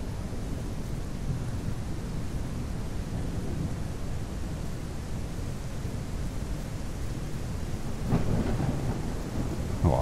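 A thunderstorm with rain in The Isle Evrima fills the scene with a steady broadband hiss of rainfall and a low rumble, swelling slightly near the end.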